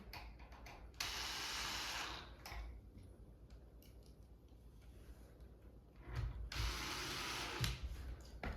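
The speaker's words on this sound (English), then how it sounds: "Install the screw." A screw is driven into a bracket on a farmhouse-style shoe bench: two soft, close bursts of mechanical whirring or ratcheting, separated by a quieter stretch of handling noise.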